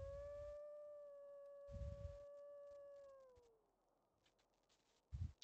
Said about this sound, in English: we're going to give it a couple howls right now so everyone knows to back off